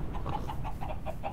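A Minecraft chicken clucks in a quick, even series of short, mid-pitched clucks, about eight in a row, moderately close and with no talking.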